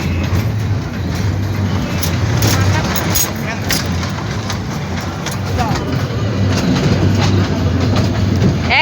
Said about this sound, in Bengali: কই যাইতেছেন ট্রেন দিয়া?